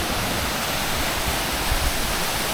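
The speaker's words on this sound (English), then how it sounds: "there's several cascading waterfalls" Cascading waterfalls in a small valley near Tamanique, El Salvador, roar as a dense, constant broadband rush of falling water, loud and close with no pauses.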